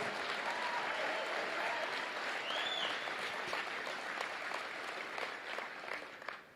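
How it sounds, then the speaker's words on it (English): An audience at a Les Brown talk applauds steadily, a sustained wash of clapping that slowly tapers off toward the end. "Give yourselves a round of applause"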